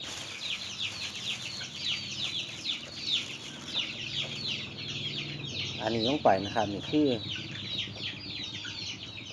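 Backyard chickens cluck and chirp steadily close by, fed a mix of feed and chicken tea, with someone talking over them and a few louder clucks bunched near the end.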